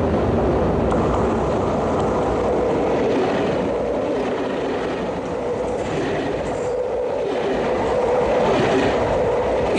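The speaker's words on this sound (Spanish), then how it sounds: "el tren de gran velocidad cubre esa ruta" A French TGV high-speed train runs along the line, a steady loud rushing roar of wheels and air with faint rhythmic clatter, continuous throughout with no voices.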